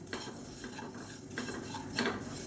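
Cumin seeds dry-roast in a pan while a spoon stirs them, making soft, repeated scraping and light rattling strokes at a quiet, close level with no talking.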